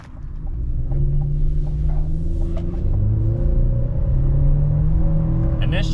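A 2023 Chevy Silverado Turbo pickup truck pulling away and accelerating, a close, steady engine rumble whose pitch climbs gradually, heard from inside the cab with no talking.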